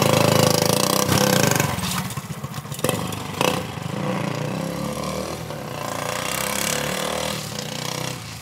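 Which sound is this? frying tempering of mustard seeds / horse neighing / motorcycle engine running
motorcycle engine running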